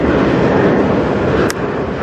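A CN freight train rolls past on the Strathroy Subdivision, a loud, close, steady rumble and roar of cars going by, with one brief sharp squeal near the end and no voices.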